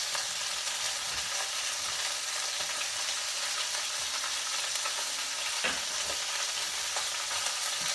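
A pork shoulder roast sears in a hot pan over medium-high heat, giving a steady, dense sizzle that stays loud and even throughout, with a few faint clicks and one small bump near the end.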